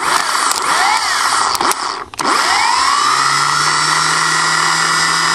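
Starter motor on a Ford diesel truck spinning up when its solenoid output is jumped directly, a loud steady high-pitched whir after a few brief clicks and a short dip, running continuously close to the listener.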